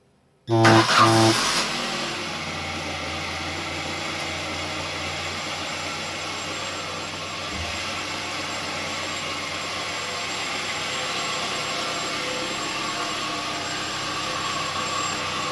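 A cold Ford Zetec 1800 engine fitted with motorcycle carburettors cranks and fires up, then settles into a steady, smooth, even idle that drones on unchanged close by.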